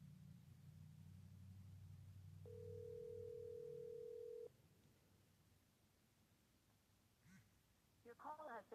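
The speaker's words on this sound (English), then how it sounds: "I'm going to try calling him." A single steady phone ringback tone sounds for about two seconds during an outgoing call that is about to go to voicemail, with low background hum before it and a brief voice afterward.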